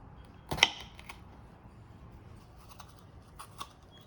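A knife cuts a small bitter melon in half in a home kitchen: one sharp crunching slice near the start, followed by a few quieter taps and knocks against the cutting board, close and otherwise quiet.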